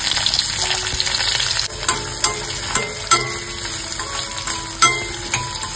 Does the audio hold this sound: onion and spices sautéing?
yes